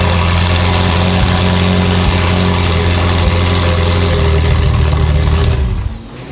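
A Ferrari 488 supercar engine idles loudly up close, a deep steady rumble with a constant low drone that cuts off sharply near the end.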